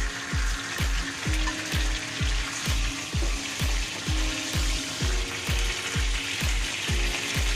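Pork pieces frying in a pan for Filipino pork humba, a steady loud sizzle with rhythmic clacking strokes of stirring roughly every half second, close up and without talk.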